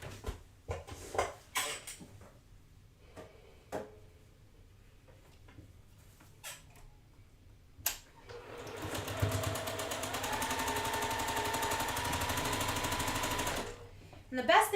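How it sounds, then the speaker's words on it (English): A home sewing machine stitches quilt block seams with web piecing and chain-pieced thread, starting after handling clatter and speech, then running in a steady, close, continuous whir for several seconds before stopping. "And I'm going to sew this together."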